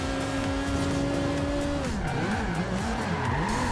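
A Lotus 2-Eleven drifts in the racing game Forza Horizon 2. A droning engine note gives way to loud, wavering tire squeal as the car slides through a corner, all close and continuous.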